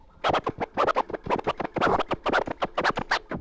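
Rapid rhythmic turntable scratches with the platter switched off, sharp back-and-forth bursts one after another, loud and close with no talking.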